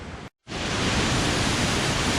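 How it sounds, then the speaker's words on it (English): Small waterfall among massive boulders near Guadalupe, Colombia, a loud, steady broadband roar of rushing water heard close up, briefly cut to silence near the start before resuming unbroken. "Yet another small waterfall."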